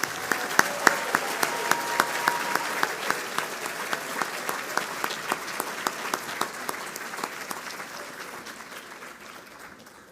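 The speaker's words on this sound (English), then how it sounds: "Let's give all of these folks a big round of applause" A large audience at a teacher-recognition ceremony gives a sustained round of applause for honored educators, steady dense clapping with a faint regular beat that slowly tapers over ten seconds.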